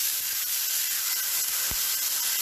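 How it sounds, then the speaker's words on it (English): Salmon searing in a hot pan gives a steady, bright sizzle and hiss that stays even throughout, close and fairly loud, with one low thump partway through. "I put that side down first because I want it to sear"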